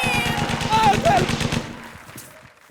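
A rapid burst of machine-gun-style gunfire rattles in quick succession as a sound effect, with voices shouting over it before it fades.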